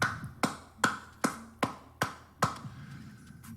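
Seven sharp, evenly spaced claps ring out one after another at a steady slow rhythm, fairly close and crisp, with nothing else heard.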